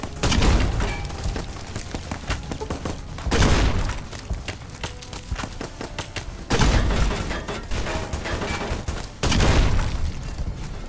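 Machine gun fire in Fallout: New Vegas, loud sustained bursts of rapid automatic shots rattling in several long stretches, close and dense with brief lulls between volleys.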